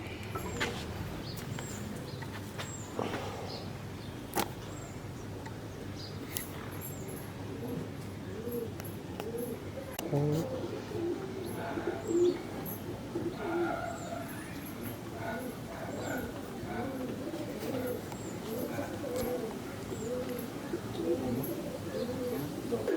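Racing pigeons cooing softly at a loft in Avvainagar, Coimbatore, low repeated coos under steady background ambience, with occasional faint bird calls and people talking nearby.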